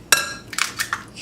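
An egg cracks sharply against a hard edge for fish cakes. One crisp knock is followed by a few softer clicks and taps as the shell breaks open, close and brief.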